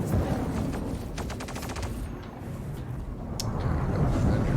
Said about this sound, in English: They are gimbaled guns, and I'm going to be using them.